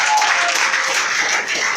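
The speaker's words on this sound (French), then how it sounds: "Acclame le Seigneur Jésus." A church congregation claps and applauds together, a dense, steady burst of clapping lasting under two seconds.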